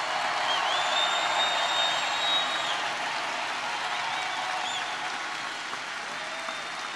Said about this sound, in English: A round of applause for our hard-working coal miners.